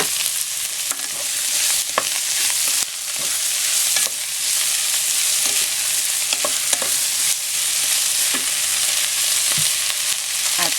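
Sausage sizzles and fries in a pan for macaroni soup, with a steady hiss broken by scattered clicks and scrapes of stirring; close and continuous, no voices.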